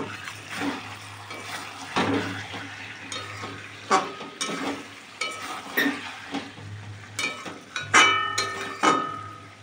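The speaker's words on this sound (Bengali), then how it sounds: "আর এদিকে চিকেনটা এখনও কষানো হচ্ছে।" Chicken sautéing in a pan for a home-cooked curry, a low sizzle under repeated scraping and stirring strokes, with occasional clinks of a utensil against the metal pan.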